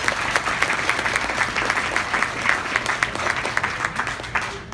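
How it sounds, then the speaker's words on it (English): Audience at a luncheon in New York City breaking into steady, even applause, many hands clapping together at a dense constant level for several seconds. "Could we give him a round of applause?"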